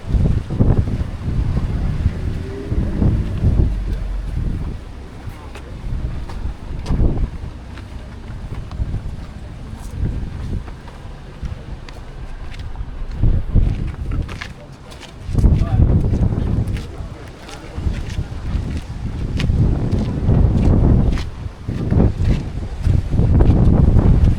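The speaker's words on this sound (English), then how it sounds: "Pretty spectacular view, but the wind is intense." Intense wind at lighthouse ruins on the coast of Aguadilla, Puerto Rico, roaring and buffeting hard against the microphone in loud gusts, with a voice speaking through it.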